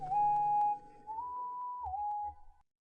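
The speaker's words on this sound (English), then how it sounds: "I think it's called the winter lead or the winter whistle" A clear, whistle-like synth lead preset called winter whistle in FL Studio plays a few sustained notes, stepping up and down in pitch, with soft percussive clicks beneath.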